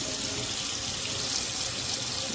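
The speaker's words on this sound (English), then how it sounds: "So now I'm just gonna rinse." Water from a tap runs steadily over a makeup brush being rinsed in a sink, a constant close hiss and splash with no voices.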